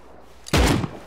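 A single loud burst of gunfire in the game Rust cracks out after a quiet moment, sharp and close, then decays quickly.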